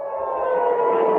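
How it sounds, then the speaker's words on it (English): An air raid siren sounds in an Israeli city during an Iranian missile attack, a loud, steady, wailing tone that holds for the whole clip with no voices. "Air raid sirens were activated in cities across Israel"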